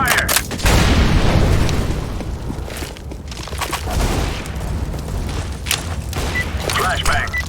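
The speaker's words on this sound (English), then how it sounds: "Throwing a grenade." A grenade goes off in Counter-Strike: Global Offensive, a loud booming blast followed by a rumbling tail and scattered gunfire-like bursts, with a voice talking over the game.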